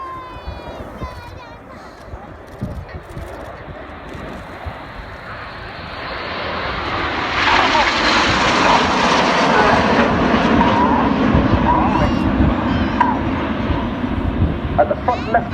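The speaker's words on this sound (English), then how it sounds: "Coming in from the left with some red and white smoke, this is Typhoon." A Eurofighter Typhoon jet at an air show trailing red and white smoke swells from a distant rumble into a loud roaring pass, with an announcer talking over it throughout.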